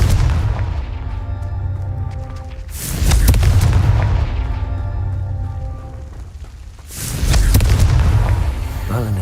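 Two loud, booming blasts from a Confringo spell in Hogwarts Legacy strike a few seconds apart, each followed by a long rumbling decay, over a low continuous game background.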